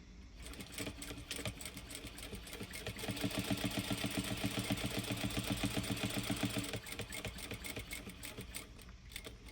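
A sewing machine runs a steady, rapid stitching rhythm while basting wallet pieces in place at an eighth-inch seam, moderately close and alone, speeding up in the middle stretch before easing off.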